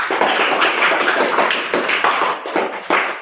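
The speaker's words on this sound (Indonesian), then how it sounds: "Kita berikan tepuk tangan lagi dulu supaya semangat." After a presentation, an audience in a room breaks into applause, with dense, rapid claps coming in short uneven bursts that stay fairly loud and near for the few seconds.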